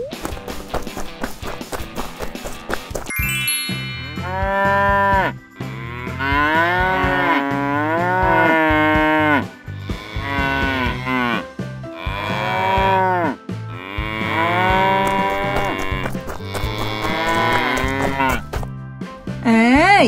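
Cows moo repeatedly in a Thai Barbie doll play scene set at a cow pen, long loud drawn-out lowing calls following one after another with brief gaps, no talk over them.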